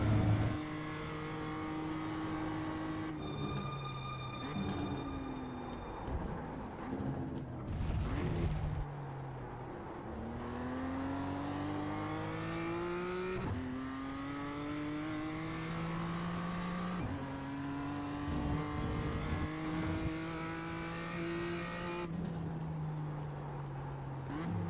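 A BMW M2 race car engine in the iRacing sim climbs and drops through the gears repeatedly, revving steadily with brief lifts, close and continuous for the whole stretch with no talk.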